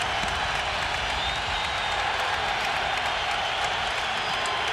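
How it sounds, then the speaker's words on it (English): A basketball arena crowd roars during an NBA playoff game between the Philadelphia 76ers and Milwaukee Bucks, with loud, sustained cheering and some applause throughout. "And the crowd has come alive again."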